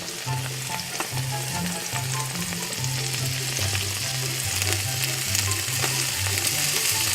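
Onion frying in a pan, a strong continuous sizzle with bright crackle, close by, with a low tonal hum running underneath.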